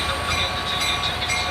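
A Long Island Rail Road train with dual-mode locomotives, a loud, steady rumble of wheels and carriages on track, with no voices.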